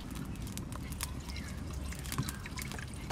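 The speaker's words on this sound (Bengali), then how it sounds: "সামান্য একটু জল দেবো" A little water poured into a pan of raw mrigal fish curry, a faint, steady trickle and splash over low cooking noise.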